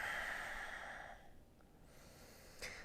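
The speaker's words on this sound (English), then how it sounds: "constrict the throat. Again, inhale through the nose and exhale through the nose" Slow, audible nasal breathing with the throat constricted during a live yoga class: a long rushing exhale through the nose, a short pause, then the start of another breath, close and soft, with no talking.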